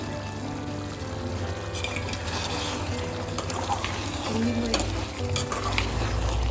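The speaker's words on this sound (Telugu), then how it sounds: "టమాటా ముక్కలు ఉడికినాక మంచిగా కలిపి కస్తూరి మెంతి ఆకుని చల్లుకొని" Chicken curry with tomato and kasuri methi being stirred as it fries in a pan, a steady close sizzle with scraping spoon strokes throughout.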